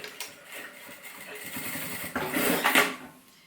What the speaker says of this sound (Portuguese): só vou passar uma costura aqui pra fixar